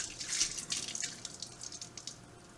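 Water rinses out the inside of a Sanke beer keg used for homebrew, a soft, hissing splash with scattered drips and trickles, fairly faint and close, with no voices.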